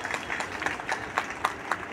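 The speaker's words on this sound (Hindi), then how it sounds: "आप एक बार जोरदार ताली बजाएं।" An audience applauds loudly at an Independence Day school event, a steady wash of clapping with sharper bursts standing out, continuous for about two seconds.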